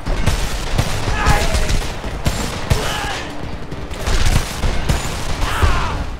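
Sustained gunfire in the video game Homefront during a firefight at the Golden Gate Bridge, bursts of rapid shots and booms in close succession, loud, with muffled voices mixed underneath.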